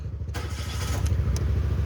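A motorcycle or small vehicle engine cranks and fires into a steady, pulsing idle right after a GPS kill switch is switched back on, close and fairly loud with no talking.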